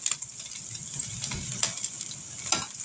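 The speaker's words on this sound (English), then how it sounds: "Alrighty, time to flip these burgers." Burgers frying in a hot pan, a soft continuous sizzle with scattered crackles and a few brief scraping bursts as the patties are flipped, fairly close and moderately quiet, no voices.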